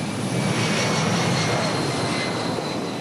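An airplane's engines drone steadily in a loud, broadband cabin roar on a long plane journey, with no pauses or voices.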